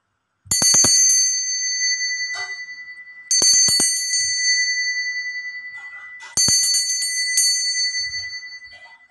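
A bell rings three times, each strike bright and metallic, ringing out and slowly fading before the next, with no voices.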